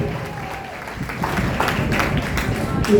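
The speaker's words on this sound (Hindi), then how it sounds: "एक बार पुरजोर तालियां बजाएं।" Crowd at an All India mushaira in Deoband breaks into applause that swells from a murmur to fuller clapping, with voices talking over it.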